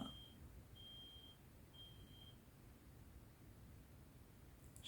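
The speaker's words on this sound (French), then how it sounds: "Je sais pas si c'est une alarme incendie chez les voisins ou si c'est un camion dehors qui recule." Three faint, evenly spaced high electronic beeps from a fire alarm or reversing truck, heard through a quiet room with soft steady background hiss.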